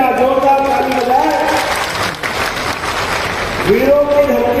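At a public event in Chanderi addressed by the Chief Minister, a crowd breaks into loud applause. The clapping washes through the middle of the clip, overlapping an amplified voice and ringing harmonic tones.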